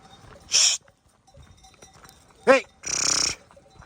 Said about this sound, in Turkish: Koyunlar bir türlü doymuyor